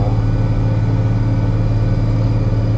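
Tractor chisel plowing hard-packed corn stalks, a loud, constant low engine drone with steady rumble and no distinct breaks.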